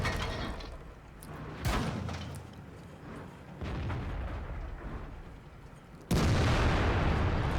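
A SU-76I tank destroyer's main gun fires in a tank video game: two deep, booming blasts, the second louder and closer, over a rumbling engine and battlefield noise with no talking.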